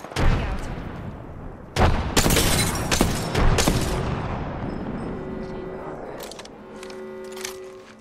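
A grenade goes off and gunfire follows in a shooter video game: several heavy booming blasts and sharp shots in quick bursts, loud and close, with a lingering rumble and electronic game tones fading out at the end.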